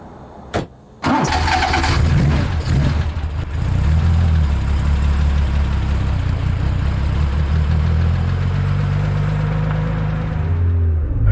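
A Porsche 911 restomod engine cranks with a couple of short bursts, then catches with a loud roar and settles into a steady, deep, throbby idle close by, with a slight rev near the end.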